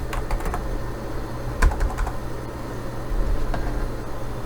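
Typing on a computer keyboard, a close run of quick light key clicks in short bursts over a low steady hum, with no talking.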